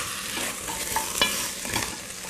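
Onions caramelizing in a frying pan are stirred, a soft continuous sizzle with scraping spoon strokes, close and fairly quiet.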